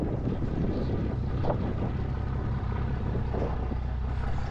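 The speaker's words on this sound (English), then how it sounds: "It's a windy day." Steady wind roars and buffets the microphone, a broad continuous rumble with no voices.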